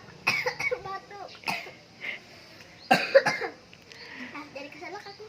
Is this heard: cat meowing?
no